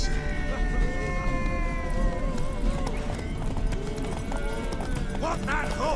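Horse hooves clip-clopping steadily in The Witcher 3: Wild Hunt, a continuous rhythmic trot under busy game music and ambience, with a voice speaking over it.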